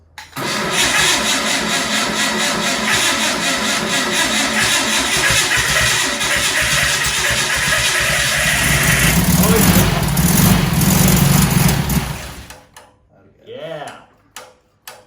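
An air-cooled 40 HP VW engine firing up for the first time after a rebuild, running loud and steady with a mid-pitched rattling idle for about twelve seconds before cutting off, followed by brief voices.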